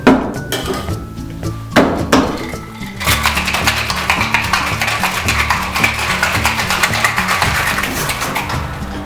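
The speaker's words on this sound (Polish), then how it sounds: "To wszystko energicznie wstrząśniemy z lodem." Vodka and orange-mango drink are shaken vigorously with ice in a cocktail shaker: a few sharp clinks of ice first, then a fast, steady rattling rhythm of ice knocking inside the shaker, loud and close.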